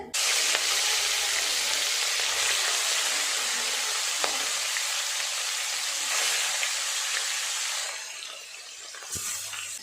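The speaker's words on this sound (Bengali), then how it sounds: "কড়াই গরম হয়ে গেছে, তেল দিয়ে মাছগুলো এক এক করে ভেজে নেব।" Fish fry in hot oil in a wok with a loud, continuous sizzle and hiss, close and constant, easing slightly toward the end with a few faint clinks.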